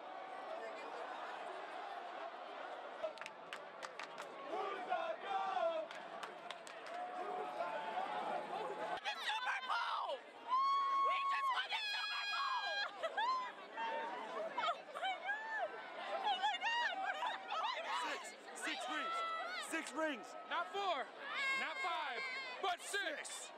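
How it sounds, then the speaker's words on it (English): Super Bowl celebration crowd of elated people chanting, screaming and cheering in a party atmosphere, a dense continuous roar with shrill whistles and high shouts rising through the middle and later stretches. "People were elated, chanting, screaming and cheering."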